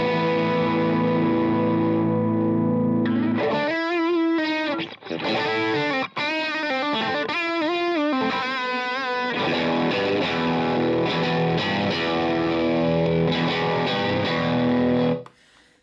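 Electric guitar runs through an MXR Timmy Drive Mini overdrive pedal, giving a loud, gritty, sustained tone. Held chords give way to quick picked phrases, then ringing chords return, with no talking over the playing.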